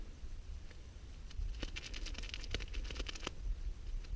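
A body-warmer heat pack is shaken, producing a soft, rapid granular patter of quick rustling bursts that grow denser in the middle, close by and quiet, with no voices.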